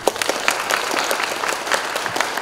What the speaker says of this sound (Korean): 고생하신 첫 번째 발표팀에게 큰 박수 보내주시기 바랍니다